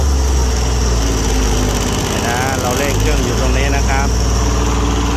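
An old Japanese three-cylinder diesel welding generator runs throttled down, giving a close, loud, steady idle with a deep pulsing hum and a layered mechanical whine. Someone talks over it throughout.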